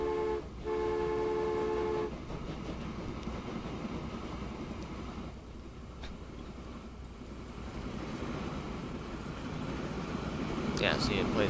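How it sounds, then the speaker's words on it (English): Ambient railroad crossing noise from the Transport Fever 2 game plays as a steady tonal horn-like chime for a couple of seconds over a continuous low rail rumble, with speech over the scene. "it plays that ambient railroad crossing noise, which is really weird"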